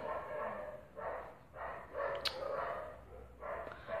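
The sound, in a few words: dogs barking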